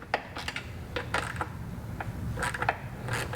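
A 10mm quarter-inch drive socket loosens the fasteners holding the grab rail to a Vespa Primavera or Sprint frame: a soft run of quick metallic clicks and taps over steady background hiss.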